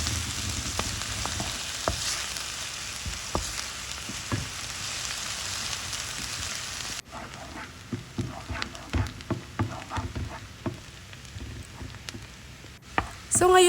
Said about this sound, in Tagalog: At isusutay lang po natin yung ating garlic at ang ating onion hanggang sa lumabas po yung kanyang aroma